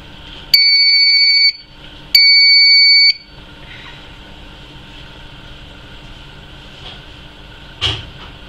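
An ICP 002 prayer time schedule clock sounds its alarm: two steady electronic beeps, each about a second long, close and loud, followed by quiet room background and one faint soft knock.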